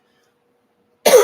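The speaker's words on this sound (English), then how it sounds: "Excuse me for coughing." A man coughs once, a single abrupt harsh burst that comes after a second of near silence, close and loud.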